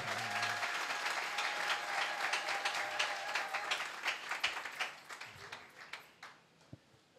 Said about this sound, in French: Est-ce qu'on peut acclamer un peu le Seigneur?